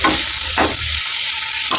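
Spices with chilli powder and turmeric sizzle and fry in a pan for a North Karnataka-style jhunka, with a steady close frying hiss and a few scraping stirs of a spoon.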